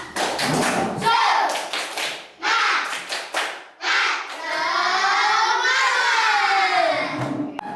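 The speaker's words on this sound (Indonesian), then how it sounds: "Tepuk semangat." A class of children claps a rhythmic cheer pattern, loud and close: quick bursts of claps, short pauses, then more patterned clapping, with children's voices calling out toward the end.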